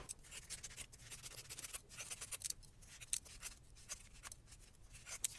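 Scissors trim fabric on a no-sew tiered heart Valentine ornament, a quiet, close series of crisp snips and rustles in an uneven rhythm.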